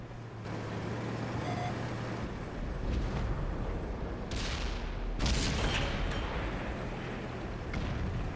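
A FV215b tank fires its cannon in World of Tanks on console. Two heavy booms burst over a constant engine and battlefield rumble, each with a brief echoing tail.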